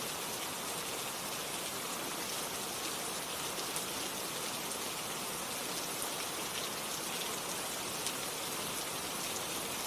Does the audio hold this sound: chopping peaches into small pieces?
no